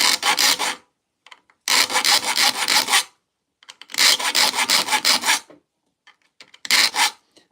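A hand saw has new teeth filed into a toothless section during sharpening, heard as four loud, close bursts of rasping file strokes, each about a second long, separated by short quiet gaps.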